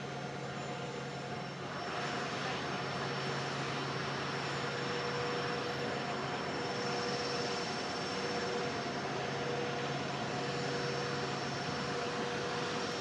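A large four-engine Russian transport aircraft drones steadily throughout, a broad continuous engine roar with sustained tonal hum, fairly distant and unchanging, with no voices.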